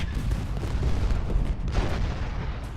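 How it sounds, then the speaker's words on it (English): Musket volley fire in the Civil War strategy game Ultimate General Gettysburg, a dense rumbling barrage of overlapping shots and booms sustained throughout, loud and close with no pauses. "And then we're going to unleash a volley into him."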